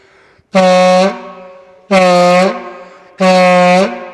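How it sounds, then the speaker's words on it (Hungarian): A homemade fan horn made by blowing through a tube gives three loud, buzzing blasts, each about half a second long, separated by short pauses. "pillanatokon belül egy szürkolói dudát lehet csinálni"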